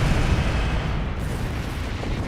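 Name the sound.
ship cannon firing in video game Star Trek Online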